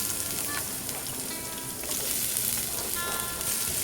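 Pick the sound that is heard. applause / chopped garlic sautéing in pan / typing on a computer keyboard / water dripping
chopped garlic sautéing in pan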